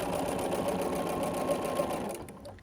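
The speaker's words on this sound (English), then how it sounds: "And I just sew along this diagonal" A sewing machine stitches binding onto a peppermint tree skirt along a diagonal, giving a steady, close mechanical whir that runs evenly and stops near the end.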